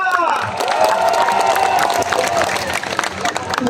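A large anti-corruption rally crowd at Luneta claps and cheers in a loud, sustained wave of applause, with a voice over a loudspeaker carrying through it.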